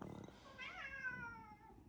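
A cat meows once, a drawn-out rising then falling cry, close by over faint background noise.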